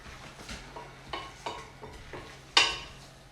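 Meatball mixture being mixed by hand in a bowl: a series of soft squelching pushes and scrapes close by, about six uneven strokes, the final one loudest.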